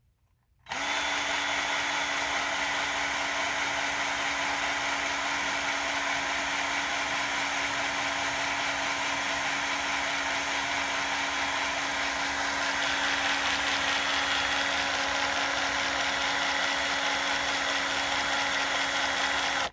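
Gearbox actuator for the convertible top of a 1976 Cadillac Eldorado running in reverse, with a steady, loud electric motor whine that starts abruptly and holds for nearly twenty seconds, its pitch shifting slightly partway through.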